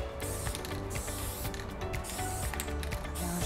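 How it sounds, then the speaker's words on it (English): A spray paint can hisses onto glass with rattling, mechanical clicks, continuous and close, with no talk. "people can also spray paint and vandalize your building, such as this."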